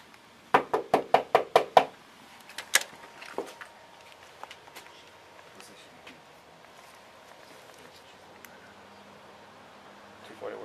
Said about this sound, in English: We're knocking on the door now.